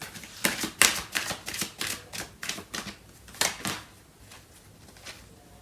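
Tarot cards shuffled and drawn close by, a quick run of crisp flicking and snapping card sounds, strongest early on and then thinning out, with no talking.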